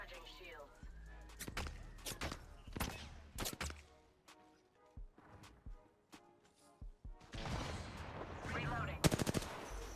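Gunfire in the video game Apex Legends: repeated bursts of rapid automatic shots cluster at the start and again near the end, with quieter gaps between. Game voice lines and other effects can be heard between the shots.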